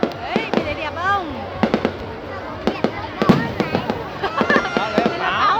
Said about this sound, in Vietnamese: Đây là pháo. pháo hoa rồi